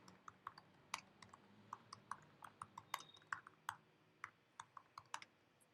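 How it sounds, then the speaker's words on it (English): Quiet typing on a computer keyboard, with irregular, close key clicks and taps in short bursts over a soft background hum. "So while I am typing the headline"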